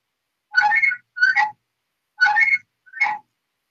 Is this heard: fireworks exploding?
no